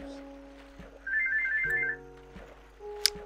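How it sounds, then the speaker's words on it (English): A phone rings with a repeating electronic tone, fairly faint, over quiet Minecraft game music and effects, with a brief sharp blip near the end. "And I have a phone call, which I need to take."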